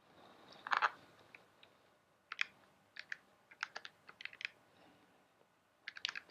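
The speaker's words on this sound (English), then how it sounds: "you can type that entire thing in the calculator." Quiet, close keypresses on a calculator keypad: an irregular string of crisp plastic clicks, some in quick clusters and some alone, with short pauses between them.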